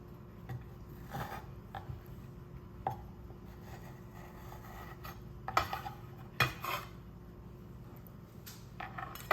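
Knife trimming the edges off fresh fruit, faint irregular clicks and scrapes against a board, with a few sharper taps standing out over a quiet background.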